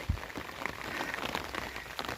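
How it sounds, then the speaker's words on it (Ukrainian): Gentle rain falls on the evening before a rainbow, soft and faint, a steady patter of drops with one closer splash near the start and no voices. "Мої ворота помиє дощик."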